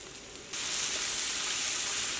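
Coriander powder and spices sizzling in hot oil in a pan for a cauliflower and potato curry; a softer fizz jumps suddenly into a loud, steady crackling sizzle that carries on to the end.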